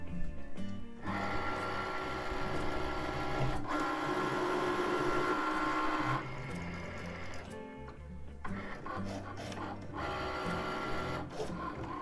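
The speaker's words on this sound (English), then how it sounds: "I let my Cricut maker cut the vinyl" Cricut Maker cutting vinyl, a steady whirring motor with rapid rhythmic clicking that pauses and restarts several times as the carriage moves, close and fairly quiet.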